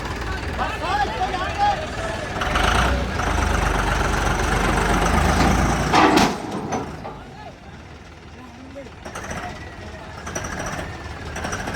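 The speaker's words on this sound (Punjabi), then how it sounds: "ਪਿੰਡ ਹਣਾ ਲਓ ਬਈ ਟਰੈਕਟਰ ਚੜਾਉਣ ਲੱਗੇ ਮੁੰਡੇ" A tractor engine rumbles and idles close by at a Punjab village tractor race, loud and steady, with people talking over it and a brief louder surge midway.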